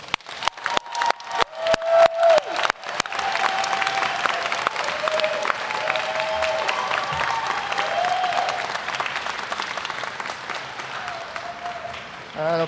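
Loud audience applause for new students at a fall university convocation, a dense sustained roll of clapping with a few whoops, opening with sharp distinct claps before swelling into a steady wash.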